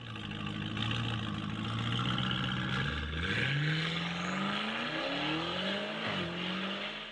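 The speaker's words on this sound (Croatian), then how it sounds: "kad radi neki motor sa V8, to obično je nizak zvuk" A V8 car engine runs loud and alone, its low steady drone climbing in pitch as it revs up twice, once partway through and again near the end.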